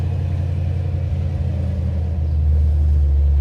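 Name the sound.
G-body car engine running with Chupacabra cam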